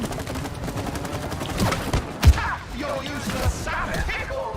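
Gunfire in the co-op video game It Takes Two, a few sharp shots standing out over a dense, busy game soundtrack with players talking throughout.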